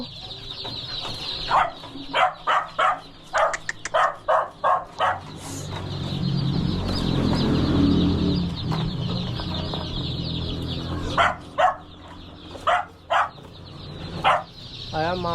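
Chicks chirp in quick, high bursts while being picked out as new pets, loud and close at the start and end with a murmur of handling noise in between; people talk nearby.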